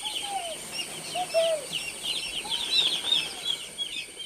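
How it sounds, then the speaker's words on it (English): Chickens on an Indian farm flap their wings and scurry away, a flurry of wingbeats with short chirps and clucks, fairly faint and close, with no talking. "Chickens run away Because because they're scared of Gerald."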